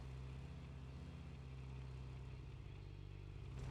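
A vehicle in PUBG Mobile drives in a steady, continuous engine drone with low harmonic bands and a slight rise toward the end. It runs unbroken throughout and plays alone, with no talk over it.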